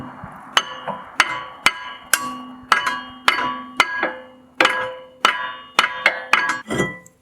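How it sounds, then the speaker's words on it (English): A hammer strikes a stuck rear brake rotor on a 2016 Ford Transit-150 to loosen it, about a dozen loud ringing metallic blows in an uneven rhythm, each one close and followed by a short decay. "I'm just kind of hitting it back and forth, trying to loosen it up so that we can turn it so that these line up with these"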